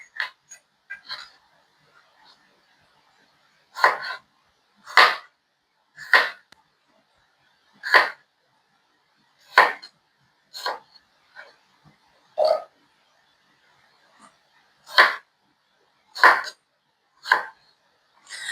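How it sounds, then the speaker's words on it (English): A knife chops plums into bite-sized pieces on a cutting board, a series of sharp, close thuds in an uneven rhythm, about fifteen separate cuts with short pauses between them and no talking. "just chop it into bite-sized pieces"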